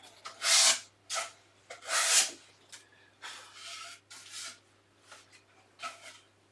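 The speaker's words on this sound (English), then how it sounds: "Sandpaper." Sandpaper rubbed by hand over wood in a box-making workshop, a series of close, rasping strokes of varying length with short pauses between, some long and heavy, others quick and lighter.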